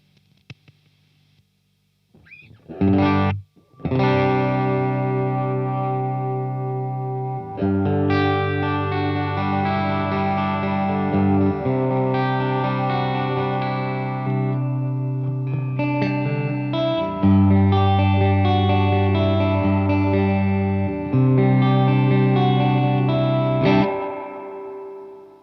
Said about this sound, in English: Just a beautiful old-fashioned spring reverb.